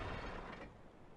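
A truck winch in the Spintires MudRunner off-road game winding down, giving a steady mechanical whirring and grinding hum that runs on without a break for about a second.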